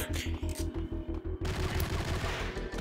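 Rapid gunfire in Max Payne hitting a staircase, with loud repeated shots in a tight rhythm that give way to a dense, continuous burst, close and harsh, and a voice talking over part of it.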